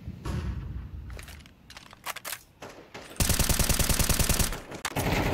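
Rapid automatic gunfire from a video game match on the Inferno map bursts in loud and close after a quieter start, with dense, steady rattling shots.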